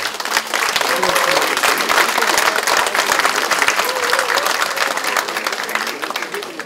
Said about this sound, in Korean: 뜨거운 박수 한번 보내주시기 바랍니다